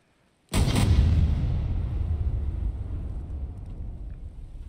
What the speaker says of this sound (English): It did sound like multiple explosions.